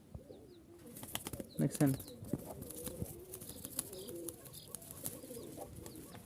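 Giribaz pigeons cooing softly nearby, low repeated coos with a few wing flutters and scattered chirps, while someone talks over them at times.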